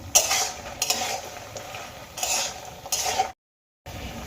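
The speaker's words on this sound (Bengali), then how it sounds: "বড়িগুলোকে কিন্তু আমি হালকা লাল করে ভেজে নেবো" Bori lentil dumplings frying in a pan, bursts of sizzle and spatula scraping against the metal, then a brief cut to silence before the sizzle resumes.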